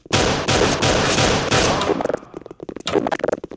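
Rapid gunfire in a tactical shooter game, a loud dense burst of automatic shots followed by separate sharp single shots and a short final volley, close and punchy.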